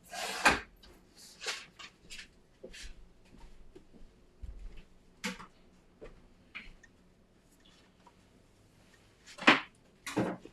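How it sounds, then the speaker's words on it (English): Card stock cut down the middle for a craft project, heard as a series of sharp, close snips and clicks of a cutting tool spaced irregularly, with quiet pauses between them and no talking. "I'm going to cut this right down the center"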